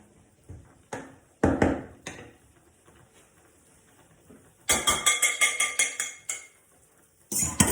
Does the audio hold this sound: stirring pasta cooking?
yes